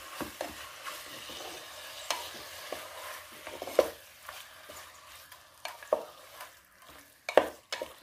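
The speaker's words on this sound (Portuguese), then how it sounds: "Agora eu vou mexer tudo muito bem." Beef, potatoes and carrots are stirred in a hot pan for a pot roast, a soft continuous sizzle broken by scraping strokes and a few sharp clinks of the utensil against the pan, with no talk.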